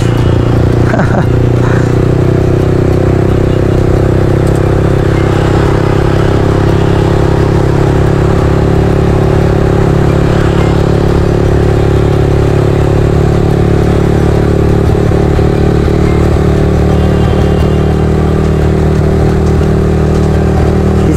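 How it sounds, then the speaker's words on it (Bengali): A Yamaha R15 V3 sport motorcycle ridden on the road gives a steady, loud engine drone with wind and road rumble throughout, without a break. "হাত পা যা আছে সব দিয়ে বাইক চলতেছি"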